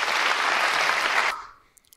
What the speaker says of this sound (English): People start clapping after.